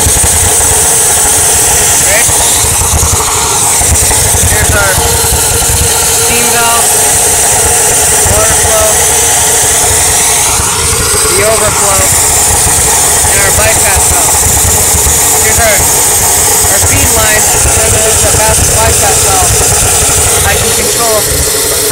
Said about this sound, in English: We're running quite a few engines in the back.